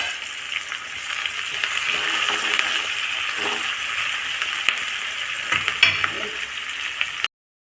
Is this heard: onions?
yes